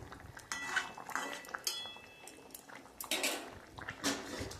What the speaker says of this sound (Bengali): এবার আমি বেগুনগুলো যে ভেজে রেখেছি আমি ওগুলো দিয়ে দেবো।